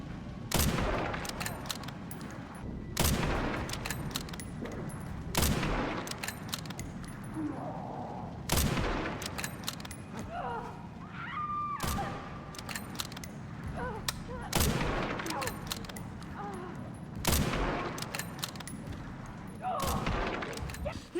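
Rifle gunfire from Resident Evil Requiem cracks out in sharp single shots spaced every few seconds, loud against a low rumbling backdrop, with faint game sounds between the shots.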